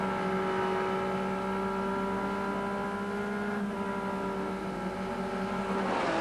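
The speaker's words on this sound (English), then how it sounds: "Watch Scaife get off the line." Touring cars in a 1991 Australian Touring Car Championship round at Lakeside Raceway roar off the start line, a steady dense engine drone with sustained harmonic whine that swells near the end, loud and continuous.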